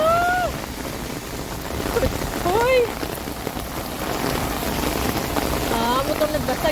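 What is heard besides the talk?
rain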